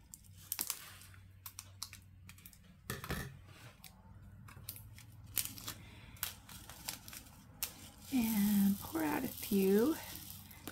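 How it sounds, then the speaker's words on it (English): Scissors snip open a plastic bag of diamond painting drills with a few crisp clicks and crinkles among light handling noises, followed near the end by a brief spoken voice. "So, I guess I need my scissors."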